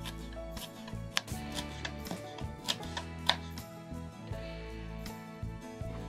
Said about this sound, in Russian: А лук мелко нарезаю ножом.